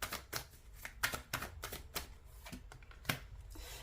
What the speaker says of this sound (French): on va prendre une carte du Oshozen Tarot